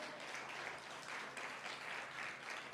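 A church congregation at a Pentecostal worship service applauds, a faint, distant wash of steady clapping with gentle swells and no clear voices over it.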